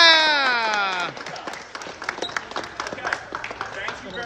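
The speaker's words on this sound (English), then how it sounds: "can we give a round of clap for our volunteers again?" An audience at a basketball session in a Farmingdale taproom claps for the volunteers. A raised voice rings out first, then scattered, moderately close clapping continues to the end.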